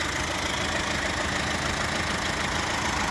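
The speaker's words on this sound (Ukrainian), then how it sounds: "Двигун працює реально дуже тихенько" A 2017 Opel Zafira C 1.6 diesel engine idles in a steady, even hum with a faint rattling texture, close and unchanging throughout.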